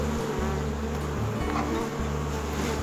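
Honey bees buzz in a dense, continuous drone while being shaken into a container, close and loud with no speech.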